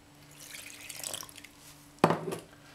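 Water poured from a container into a bowl of flour and salt while making vegetarian dough for bichak, a short pouring splash that swells and fades after faint earlier trickling.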